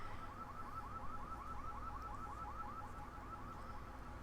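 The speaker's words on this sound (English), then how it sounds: "I do apologize for the car alarm in the background, it goes off every day at this time" A car alarm wails in the distance with a steady, repeating warble, faint but continuous behind a quiet indoor room.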